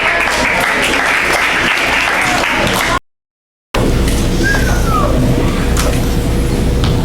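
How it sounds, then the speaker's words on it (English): A crowd at a 2015 awards ceremony applauds medal winners. The clapping is loud and sustained, breaks off in a brief silent cut, then resumes just as strongly. "Hold your applause, please."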